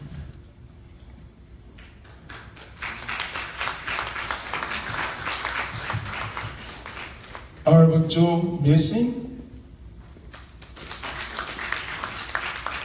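A banquet audience at an annual convention dinner applauds officers elect as they are introduced, a broad wash of clapping rising and falling for several seconds, interrupted by a louder burst of clatter and a spoken announcement.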